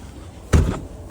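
A stiff cab door on an International Eagle truck shut once with a single solid thud, loud and close, no talking.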